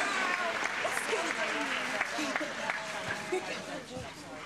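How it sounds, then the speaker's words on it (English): An indoor crowd applauds in the Crufts 2024 agility arena, sustained clapping with scattered cheers while an announcer talks over it. "let's give them a huge round of applause"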